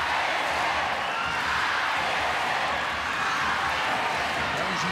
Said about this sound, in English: glow sticks are waving, everybody's chanting, they're out of their seats